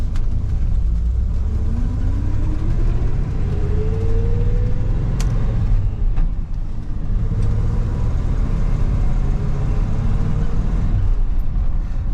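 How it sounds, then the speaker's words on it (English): A Chevrolet Suburban Squarebody with an NV4500 manual gearbox pulls away in second gear, its engine a steady loud rumble from inside the cab as the revs climb in a rising whine through the pull. "So let's do a second gear start this time for comparison."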